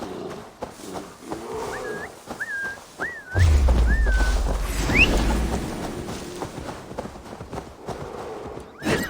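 A horse in the Viking-era game Assassin's Creed Valhalla is summoned with a few rising whistles, then gallops in with a loud, low, continuous hoof rumble that gradually fades.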